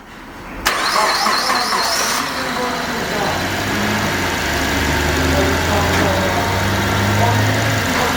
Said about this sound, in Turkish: Şimdi araca marş yapıyoruz.